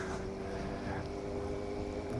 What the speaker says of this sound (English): That's the Gourock ferry.